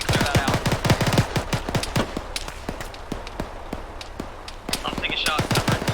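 Automatic and single gunfire from the ArmA 3 military shooter game crackles in dense, rapid bursts with near and distant shots throughout, over faint background noise.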